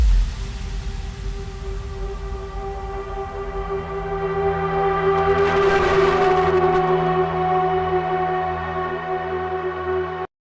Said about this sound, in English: And some linear fold distortion on the intro atmosphere